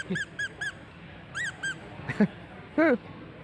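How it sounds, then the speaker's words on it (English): A 3D printed squeaky hand toy squeezed several times at a maker event, giving short, bright rubbery squeaks in uneven bursts, close and fairly loud over a busy room murmur. "oh, it's a squeaky hand"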